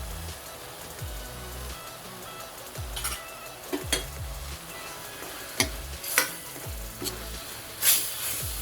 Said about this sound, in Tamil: நம்ம எடுத்து வச்ச மிளகாத்தூள், மஞ்சத்தூள், தனியாத்தூள், கரம் மசாலா எல்லாம் சேர்த்துடலாம்.